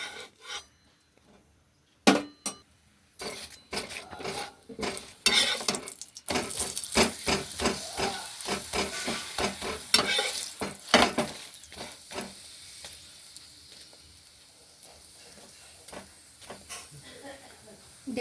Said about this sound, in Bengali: দেখুন আমরা এইগুলোকে এইভাবে ভেজে নেব।